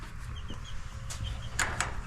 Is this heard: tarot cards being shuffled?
no